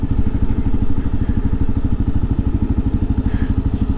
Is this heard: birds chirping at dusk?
no